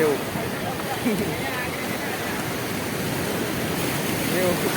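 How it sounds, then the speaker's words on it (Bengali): Broad, steady rushing roar of sea waves churning, with faint voices mixed in the background. "ঢেউ"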